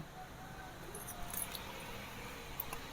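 Keys jangling in a home during a search for a misplaced set of house keys, a light metallic clinking that comes in small bursts over steady room noise, with no talking.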